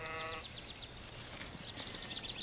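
Sheep bleating outdoors, a wavering bleat at the start followed by faint, distant calls over steady background noise.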